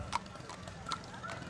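Haflinger horse hooves clip-clop on pavement in a fair parade, a few distinct, evenly spaced hoof strikes at moderate distance while a commentator talks over them.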